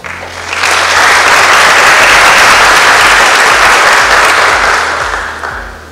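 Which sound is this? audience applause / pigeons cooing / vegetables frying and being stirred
audience applause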